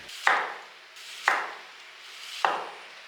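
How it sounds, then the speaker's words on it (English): Red and white onions being sliced very thin with a knife on a board to dehydrate for homemade seasoning: three crisp, evenly spaced cuts ring out close and clear, with quiet pauses between them. "Since we're dehydrating these, we need to cut them very thin."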